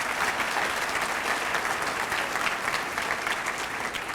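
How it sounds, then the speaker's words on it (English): A school-district audience at the Arlington ISD State of the District event breaks into sustained, dense applause, a steady roar of many hands clapping with no voices rising above it. "Give them a round of applause."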